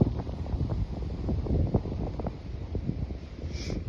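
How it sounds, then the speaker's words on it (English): Wind gusting across open ground on a cold, snowy hike outside the woods, a soft continuous rushing with low buffeting on the microphone, fairly quiet and with no voices. "The wind kind of kicks up when you're not in the woods."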